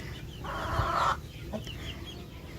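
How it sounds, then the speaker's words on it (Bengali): Farm chickens in a small family poultry shed cluck softly, one bird letting out a louder burst of clucks amid quieter scattered calls. "তো এখানে ফার্মি মুরগি আছে,"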